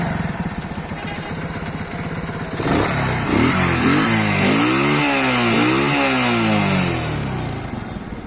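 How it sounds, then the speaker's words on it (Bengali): A small H Power 100cc motorcycle engine runs steadily up close, its pitch rising and falling in a few revving swells before settling back, with no talking. "ইঞ্জিনের সাউন্ড শুনেন আসলে অনেক ভালো সাউন্ড ইঞ্জিনের"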